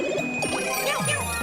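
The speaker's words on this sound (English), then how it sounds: "grab the Super Bell, and turn into Cat Mario" Super Bell power-up pickup in Super Mario Maker 2, a bright chiming jingle with quick rising and falling tinkles over steady game music.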